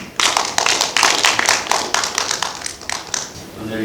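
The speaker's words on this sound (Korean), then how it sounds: "박수로 환영해 주시기 바랍니다" A small audience at a forum claps in welcome for a speaker, a short burst of fairly close, crisp handclaps that thins out within a few seconds.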